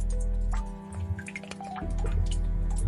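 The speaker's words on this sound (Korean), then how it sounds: "고요함 속에서 뚝뚝 물방울 소리가" Water drips in a quiet space, a few soft separate drops over a low steady background hum, faint and close.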